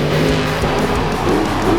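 Grave Digger, a 12,000-pound monster truck with a supercharged, methanol-fuelled 1,500-horsepower engine, roars loud and close in a dense, steady snarl with no voices over it.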